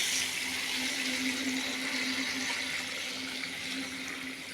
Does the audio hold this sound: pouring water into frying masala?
yes